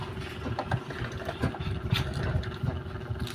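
A sewing machine stitches a car seat cover, pushing slowly through a stiff section, with a steady motor hum and a close, uneven run of needle clatter.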